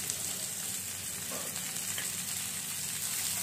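Tomatoes, cashews and spices being stir-fried in a pan for halwai-style matar paneer, a dense, continuous sizzle with soft stirring underneath, close and steady throughout.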